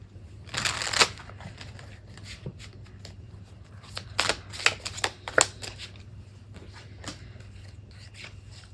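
A Rebel tarot deck is shuffled by hand, bursts of riffling and slapping cards in irregular clusters with brief pauses between them, close and without talking.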